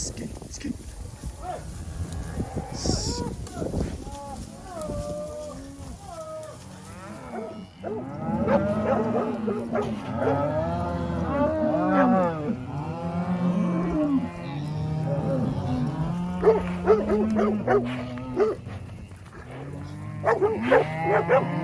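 Cattle moo repeatedly, several animals calling in long, overlapping lowing bellows, loud and close, with some rustling and movement underneath.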